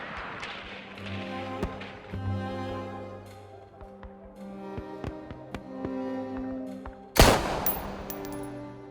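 Gunfire from a crowd of armed men during the 10 June 1971 student march in Mexico City: several sharp separate reports scattered across a loud, busy ambient background, with a larger blast near the end.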